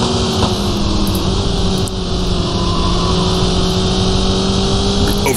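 Simulated race car engine at sustained high revs in the video game Sports Car GT, a loud continuous droning whine that holds steady throughout with a slight over-rev, no talk.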